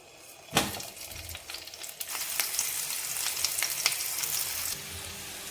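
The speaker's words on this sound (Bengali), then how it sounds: "এতে আলুগুলো এবার এপিট ওপিট লাল করে ফ্রাই করে নেব" Halved boiled potatoes drop into hot mustard oil in a pan with a sudden loud hiss that settles into a strong, steady crackling sizzle, easing off near the end.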